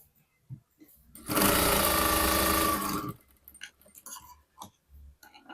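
A sewing machine stitches a blouse in a short continuous burst of rapid mechanical whirring lasting under two seconds, with soft handling clicks and rustles of fabric before and after.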